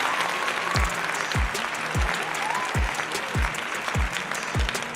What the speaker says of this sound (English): Let's get a round of applause for everyone that's on there.